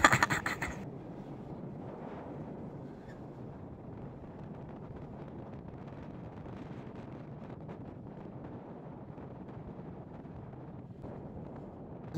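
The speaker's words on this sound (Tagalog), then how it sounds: "Ang lakas ng hangin." Strong wind roars continuously against the microphone outdoors, a loud, steady rumble with gusty buffeting throughout and no voices.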